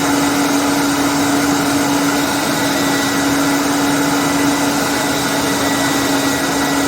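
A meat grinder pushes chicken through a fine grind plate with a loud, steady motor drone and a strong constant hum, continuous and close throughout.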